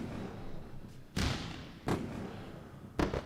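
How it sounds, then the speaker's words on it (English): Three sharp broadband bursts of a fireworks sound effect pop in succession during a live futures day-trading stream, each a loud booming crack with a brief tail, spaced about a second apart over low background hum. "We're going to run some fireworks for this."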